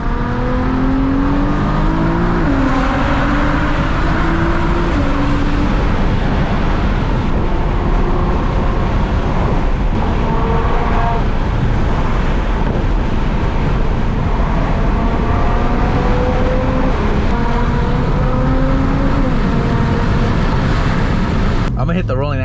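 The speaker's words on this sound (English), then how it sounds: "It's very hard to drive the speed limit in this car." Nissan GT-R driving on the street, with a loud, steady engine roar and rising revs filling the whole stretch, and someone talking over the cabin noise.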